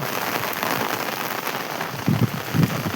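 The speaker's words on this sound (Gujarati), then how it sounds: "આજે ભાઈ વરસાદ રૂકવાનું નામ જ નથી રહેતું" Heavy monsoon rain pours steadily in a flooded village, a dense continuous hiss of drops on surfaces with a couple of louder bursts near the end.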